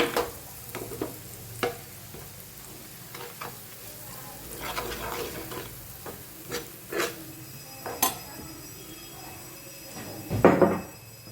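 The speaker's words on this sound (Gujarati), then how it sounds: "ચટણી આપણી ધીમા ગેસે જ સોતે થવા દઈશું." Chutney masala sautés in a pan over a low gas flame, giving a soft steady sizzle broken by repeated scraping stirs of a spoon and a few sharper clinks against the pan.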